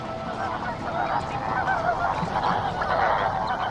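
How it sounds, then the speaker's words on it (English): A large flock of lesser and greater flamingos calling during migration, a dense continuous goose-like honking chorus that is loud and close. "The migration includes both lesser and greater flamingos."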